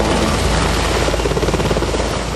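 Military helicopters fly overhead during a Red Flag exercise, with a loud, close, constant rotor roar and a rapid rhythmic blade chop filling the whole stretch.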